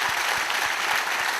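A church congregation applauding Jesus during a worship service, dense continuous clapping filling the room, loud and close, with no voices.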